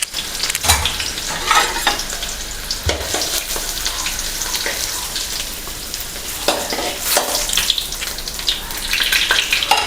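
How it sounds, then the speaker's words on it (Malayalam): Garlic and dried red chilies sizzle steadily in a hot pan, with crackling spits and occasional scraping stirs close by, no voices. "എന്നിട്ട് നമുക്ക് അതിൻ്റെ അകത്തോട്ട് കുറച്ച് വെളുത്തുള്ളി, വറ്റൽ മുളകും കൂടെ ഇടാം."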